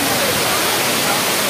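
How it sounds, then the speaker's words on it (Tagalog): Daranak Falls waterfall in the Philippines, a dense, loud, steady roar of rushing water close by, filling the short moment without a break. "nandito na kami sa Daranac Falls."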